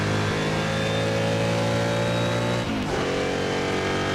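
A historic sportscar race car engine revs loudly and continuously in the Assetto Corsa racing game, the tone rising and falling with a brief dip near the end before picking up again.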